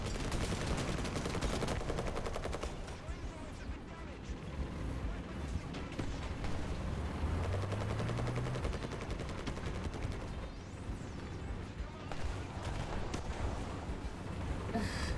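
Rapid bursts of gunfire from a vehicle in War Thunder, dense and continuous over engine rumble and battle noise, with a voice talking faintly underneath.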